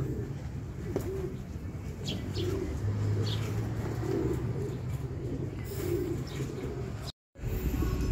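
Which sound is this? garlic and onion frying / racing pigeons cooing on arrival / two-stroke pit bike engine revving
racing pigeons cooing on arrival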